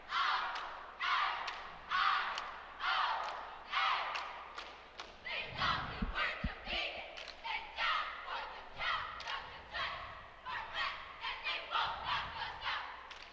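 A high school cheerleading team at the 2014 IHSA competitive cheerleading state prelims shouts a rhythmic chanted cheer in unison, punchy syllable bursts with a few low thuds from the floor, echoing in a gym.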